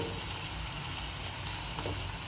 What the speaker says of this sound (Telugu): ఆనియన్స్ బాగా వేగుతాయి కదా